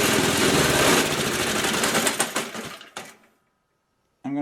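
A repaired Toro snowblower engine runs loudly and steadily close by, with a busy mechanical clatter. It then sputters, cuts out into silence, and briefly roars back up at the end.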